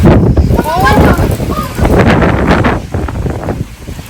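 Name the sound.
strong wind blowing outdoors during rain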